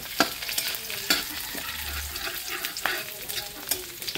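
Garlic fries in oil until golden brown for squid adobo, a constant close sizzle with periodic scrapes and taps of stirring, and no voices.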